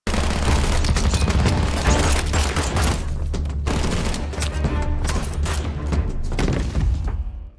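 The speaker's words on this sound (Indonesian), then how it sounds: "Aksi baku tembak pun terjadi" Gunfire in a film gunfight between an assassin and cartel men outside a hotel room, a dense continuous barrage of loud shots and booms lasting several seconds, with a brief lull partway through and then a tail-off at the end.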